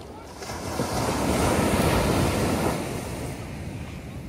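Beach waves roll in continuously, a broad loud wash swelling in the middle and easing off, with wind buffeting the microphone.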